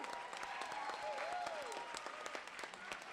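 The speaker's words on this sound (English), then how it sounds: "Give them a round of applause." A university audience applauds a group of students at a climate comedy show on campus, the clapping steady and moderately distant, with a faint tonal sound drifting through the middle.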